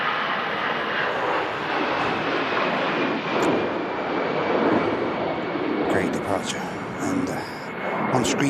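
A two-year-old Qatar Airways Airbus A350-1000 from Doha arrives at Manchester Airport in strong storm winds, its jet engines a steady, loud broadband roar blended with gusty wind buffeting throughout.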